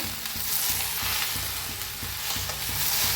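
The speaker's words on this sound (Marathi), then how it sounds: "मी असंच भाजून घेते बघा छान असं भेंडीला भाजून घेतलेलं आहे" Okra sizzles steadily in an open pan on a village stove, stirred often with soft scraping strokes, a dense continuous frying hiss up close with no voices.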